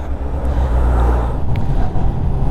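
Scooter engine on a ride around Kemerovo, a loud, continuous low engine hum mixed with road and wind rumble, steady throughout with no talking.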